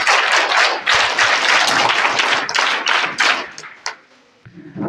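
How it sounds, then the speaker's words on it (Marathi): An audience applauds to welcome a forest officer as chief guest at an ashram school alumni event, loud sustained clapping with bursts of claps that thins out and fades near the end. "सर्वांनी जोरदार सर्वात प्रथम त्यांच्या टाळ्या"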